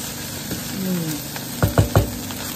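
Tocino and vegetable fried rice sizzles in a pan, a continuous frying hiss with a few scraping, stirring knocks toward the end, and faint talking in the background.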